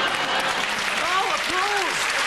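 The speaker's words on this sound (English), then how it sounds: "applause! Applause!" A TV game-show studio audience breaks into steady, full applause throughout, a dense, even clatter of many hands with faint voices rising over it.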